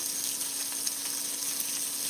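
Chicken fries in hot oil with a steady, bright sizzle, constant and close, with faint crackles and no talking.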